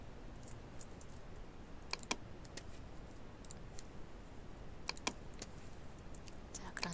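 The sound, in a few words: computer keyboard shortcut keys being pressed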